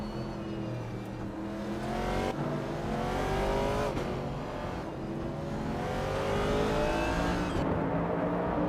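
Vintage Trans Am race cars roar around a track in a close battle, engines loud and sustained with shifting revs and cars passing by in steady succession.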